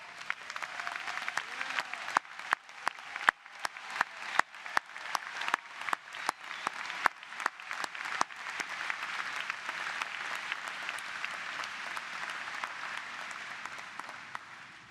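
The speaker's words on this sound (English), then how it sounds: "we owe you a round of applause." An audience at a law school commencement ceremony for STU Benjamin L. Crump College of Law, May 2024, claps loudly in sustained applause that gradually thins out.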